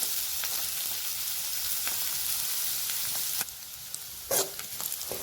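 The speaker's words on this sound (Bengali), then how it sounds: "পেঁয়াজ আর গঙ্ঘা ভেজে নিয়েছি" Onion and gongha fry in a pan with a steady, bright sizzle, broken by a few clicks and scrapes from stirring.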